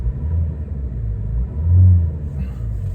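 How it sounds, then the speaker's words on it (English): A 2013 Citroen Berlingo 1.6 eHDi diesel engine gives one brief, smooth rev from a low rumbling idle, swelling and easing back down near the car with no talk over it. "I'll give it a quick rev."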